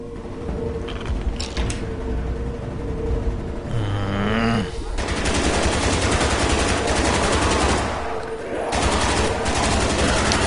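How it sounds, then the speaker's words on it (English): Sustained LMG machine-gun fire in Black Ops Zombies, loud rapid bursts that run across most of the stretch, mixed with other game sounds, including a brief lowing-like cry. "Of course, Meatwagon has an LMG"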